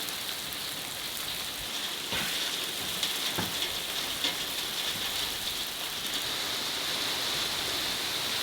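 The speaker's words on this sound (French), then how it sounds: "Ah mais c'est de la grêle." Hail falls steadily on a garden, a continuous dense hiss of small impacts with a few sharper, louder strikes scattered through, close and without voices.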